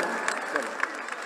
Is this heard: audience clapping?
yes